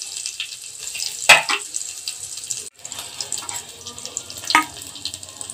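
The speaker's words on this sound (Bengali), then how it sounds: "রসুনগুলো হালকা ভাজা ভাজা হয়ে গেছে, লঙ্কাটাও ভাজা হয়ে গেছে।" Dry red chilli, nigella seeds and garlic paste frying in hot oil, a steady close hiss with a few sharp spatter bursts and scraping stirs, no talking.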